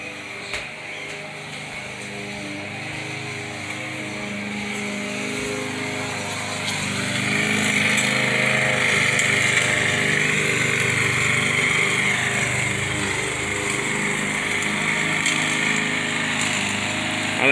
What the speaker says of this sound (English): But she's mowing it.